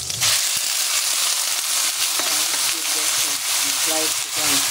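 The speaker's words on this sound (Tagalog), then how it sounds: "Squid adobo. Lutuin muna natin kunti." Squid sizzles loudly and continuously in a hot pan while cooking for squid adobo, a dense crackling fry with faint clinks near the end.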